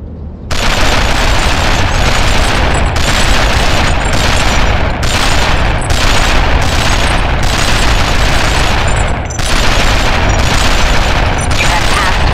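Loud sustained turret gunfire in the CT Special Forces shooter, one continuous roaring barrage broken by short pauses into repeated long bursts, close and dominant for the whole stretch.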